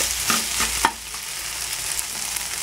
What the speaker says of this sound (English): Let it fry for 1 to 2 minutes.